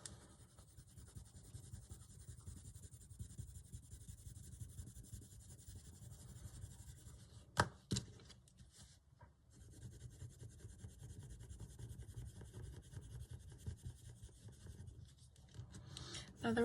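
Colouring pencil scratching steadily across paper, quiet and continuous with brief pauses, close up and alone.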